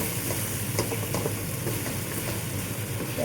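Beef stew sautéing in a pot, a steady close-up sizzle with soft crackles and occasional scrapes of stirring throughout.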